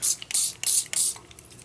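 A spray bottle misting a dark stain or paint onto a wooden remnant, with three or four loud hissing bursts in quick succession followed by softer, fading sprays, close by with no talking.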